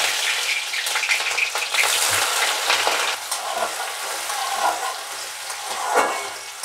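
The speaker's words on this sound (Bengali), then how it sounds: "তেলটা গরম হয়ে গেছে, এখন এর মধ্যে আমি আস্তে করে একটু পেঁয়াজ ভাজা দেবো।" Onions sizzle and crackle in hot oil for a spinach and mushroom curry, a steady close frying hiss with occasional stirring scrapes and small bursts, without any talking.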